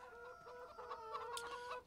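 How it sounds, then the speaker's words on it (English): Chickens on a farm in the video game Farming Simulator 17 cluck in a faint, steady tonal chatter, with one or two birds calling over one another. "Here we have our chickens."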